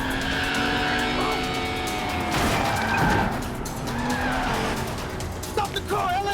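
A car pulls away fast from a house garage with tires skidding and squealing, loud and close, while people shout over the engine noise.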